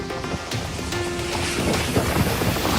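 A tornado's winds strike the village of Dusun Kalideres in Wanayasa, Banjarnegara, Central Java, slamming into house roofs as a steady, loud roar of rushing wind and turbulence with scattered clatters runs throughout.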